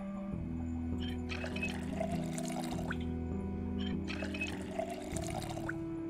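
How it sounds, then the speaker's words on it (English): Water bottles being filled in the Project Zomboid video game: two steady bursts of pouring, splashing water, each lasting a couple of seconds, over a constant low background hum. "Let's go fill up our water bottles."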